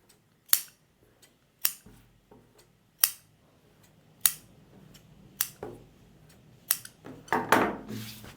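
Scissors snip through blouse fabric being cut for a boat-neck blouse. About a dozen crisp, separate cuts come at a fairly steady pace, close and clear, with a quicker flurry of snips near the end and no talking.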